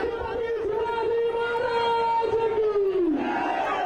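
A large crowd of local citizens gathered at Kranti Chowk in Aurangabad for the chief minister's visit roars and chants continuously, a broad outdoor din with a voice talking over it.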